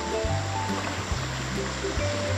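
River water streams and trickles steadily as a mother and son wade across during a family swim, with a low murmur of voices and sloshing beneath the continuous flow.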